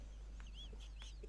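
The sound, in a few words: voice imitating a chicken clucking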